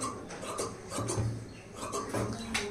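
Scissors snipping away excess main fabric from a freshly stitched 3-dot blouse, giving close, soft rasping cuts in short bursts with quiet pauses between them.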